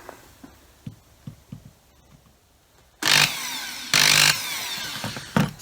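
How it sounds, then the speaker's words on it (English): A power drill bites into a plastic GoPro case in two loud bursts of whining, grinding motor noise, the second longer, after a few faint knocks and handling taps. "I've got a drill, the drill bit, and I'm just going to have a go drilling this."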